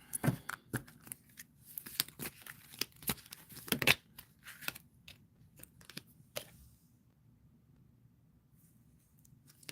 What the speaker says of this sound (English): I'm shuffling cards right now